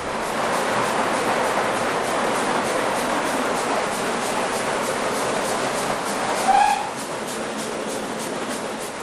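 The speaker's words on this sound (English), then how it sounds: "It's difficult to convey life on the footplate inside a tunnel when a big engine is working really hard." The Great Western King-class steam locomotive 6024 King Edward I works hard inside a tunnel, a constant enclosed roar and rush heard from the footplate, with a brief sharper squeal near the end.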